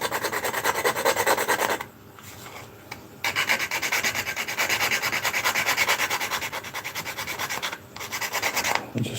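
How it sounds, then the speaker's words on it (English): Hand file scraping leftover superglue off a plastic scale model, a steady close rasping rub with two brief pauses, no talking. "I'm just filing some of this super glue off that's been left in there"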